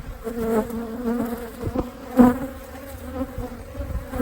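Honey bees buzzing loudly and close around an opened single brood chamber hive in June, a dense continuous drone with a brief louder swell midway, no talk.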